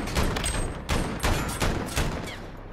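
Rapid bursts of automatic gunfire from Call of Duty Modern Warfare in a 2v2 alpha match, loud and close, repeating in quick fusillades with no speech.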